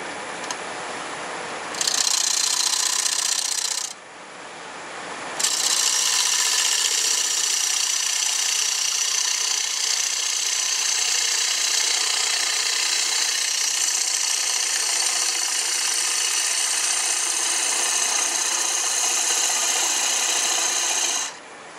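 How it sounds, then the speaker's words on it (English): A small gouge cuts a wooden bowl turning on a lathe at about 1,000 RPM, a loud continuous hissing scrape that stops briefly early on and then runs steadily for long stretches before cutting off. "I'm going to use a smaller gouge, and I'm just going to do some cuts to get rid of some wood"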